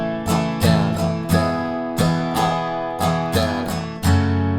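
Strummed guitar chords in a down-down-up pattern for the verse of a song, a steady run of bright, ringing strokes played up close at full volume with no voice.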